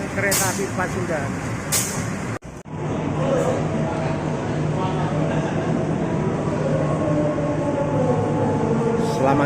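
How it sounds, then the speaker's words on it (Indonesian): A Pasundan passenger train rumbles through Yogyakarta station, a steady low drone of wheels and engine with a brief brake hiss and a short sharp clatter partway through, plus faint background voices. "rangkaian kereta api Pasundan."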